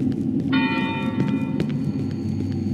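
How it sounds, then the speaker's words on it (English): Church bells ring out in the horror video game Cry of Fear, a sustained tolling with bright harmonic overtones that starts about half a second in, over a steady low rumbling ambience. "Church bells."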